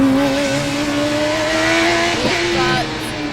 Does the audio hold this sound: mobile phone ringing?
no